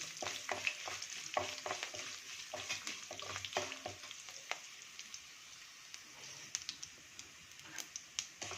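Curry leaves sauté in hot oil in a pan alongside chopped chili and browning chana and urad dal, a soft steady sizzle and crackle punctuated by stirring clicks, fading to gentler sizzling.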